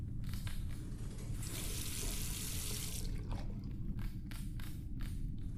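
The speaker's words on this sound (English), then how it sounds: "All that remains is to rinse the plate." A photographic plate rinsed in a video game, with water running steadily from a tap over a low rumble and a brighter gush in the middle.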